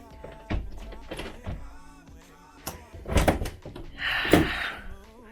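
An interior door swings shut with a solid thunk, followed by rattling and clicking as a safety latch is fastened, in a quiet home with faint background noise and no talking.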